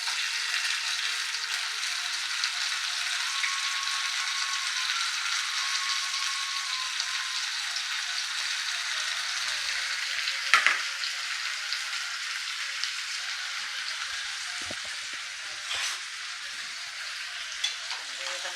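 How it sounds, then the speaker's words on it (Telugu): Chopped tomato and green chilies frying in a steel pan, a continuous close hiss of sizzling oil with a couple of brief knocks partway through. "ఇప్పుడు ఇందులో కొద్దిగా కట్ చేసుకున్నటువంటి టమోటా పచ్చిమిర్చి వేసేద్దాం"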